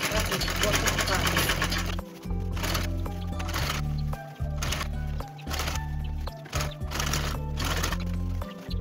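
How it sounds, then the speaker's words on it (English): A sewing machine stitches the base of a travel bag in loud, rapid bursts that stop and restart several times, with short pauses between runs. "So that is all you need to do for the final sewing of the base."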